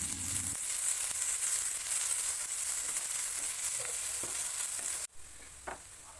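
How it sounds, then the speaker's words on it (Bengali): Onions frying with garlic paste in a pan, stirred as they cook. Loud, steady sizzling carries on with scraping stir strokes, then abruptly drops to a quieter hiss near the end. "পেঁয়াজগুলি লাল লাল হয়ে গেলে তাতে আগে থেকে বেটে রাখা রসুনটি মিশিয়ে দিতে হবে ও ভালো করে নেড়ে নিতে হবে।"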